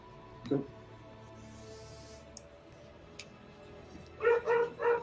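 A dog gives a short bark near the start, then a quick burst of three or four yips close by near the end, with a quiet room between them.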